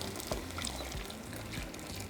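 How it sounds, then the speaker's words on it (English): Water pours into a blender cup while caldillo sauce is being made, a soft steady splashing trickle that is faint and continuous for a couple of seconds. "Add a little bit more water to the blender cup."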